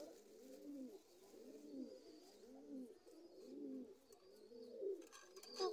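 A Punjabi pigeon coos softly in repeated rounded phrases, close but quiet, with a brief rustle near the end.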